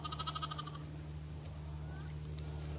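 A sheep in a pen bleats once in a quick wavering burst at the start, followed by a steady low background hum with no voices.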